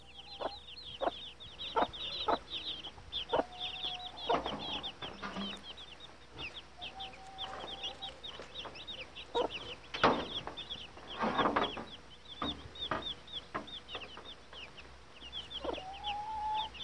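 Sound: chickens clucking

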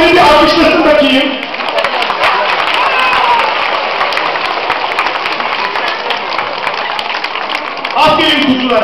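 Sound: audience applause

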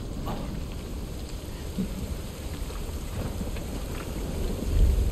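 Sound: rain in video game Final Fantasy 7 Rebirth

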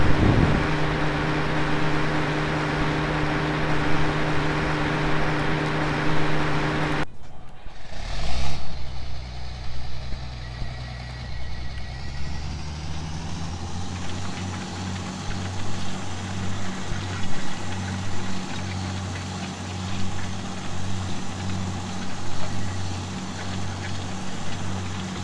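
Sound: tractor engine pulling cultivator in Farming Simulator 2013 video game

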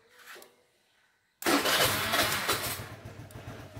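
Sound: Suzuki Address scooter engine starting with LiFePO4 battery

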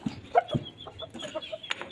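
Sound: hen and chickens clucking in a coop

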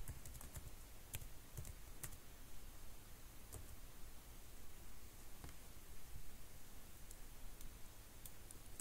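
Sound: typing localhost on a computer keyboard

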